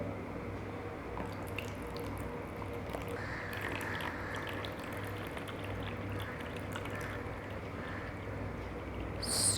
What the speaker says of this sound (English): I am going to pour water into this